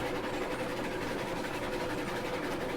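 A steam train runs in Railroads Online, its engine giving a steady mechanical chugging hum with faint rail clatter, even and continuous at moderate distance.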